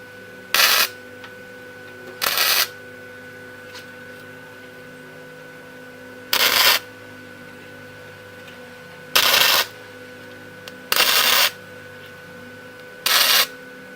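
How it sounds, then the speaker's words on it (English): Quarter-inch steel rod intersections are tack-welded in a garage, six short, loud bursts of harsh buzzing crackle, each about half a second long, separated by quiet pauses. "So let's turn on the welder and let's get busy on this."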